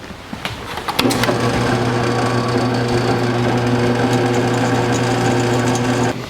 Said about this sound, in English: we need to drill these pilot holes out to 5/16